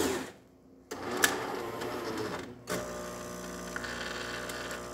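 A Jura Impressa E9 coffee machine with a new brew unit pulling a long shot, its internal pump buzzing and humming steadily after a few mechanical clunks and pauses, heard up close.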